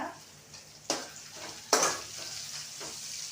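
Semolina frying in ghee in a pan: a soft, even sizzle with two distinct scraping stirs of a spoon, close by and quiet, no voices.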